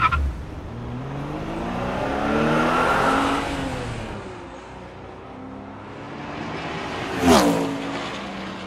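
A car engine revving up and down with rising and falling pitch at moderate volume, and a brief sharp squeal-like burst near the end.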